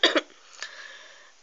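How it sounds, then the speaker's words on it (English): A couple of short, rough coughs burst out close by, followed by a quiet pause and another brief cough at the end. "Sorry for the coughing."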